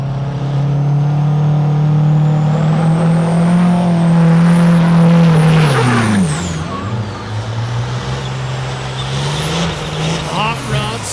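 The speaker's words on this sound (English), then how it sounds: "it's just a working man's race truck" A hot rod semi race truck roars down the Yellowstone dragstrip, its heavy diesel engine droning loudly and steadily before shifting down with a sweeping drop in pitch, then winding back up, while an announcer talks over it.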